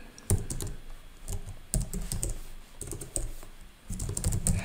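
Rapid typing on a computer keyboard, clusters of close, crisp key clicks in irregular bursts with short pauses, no voices.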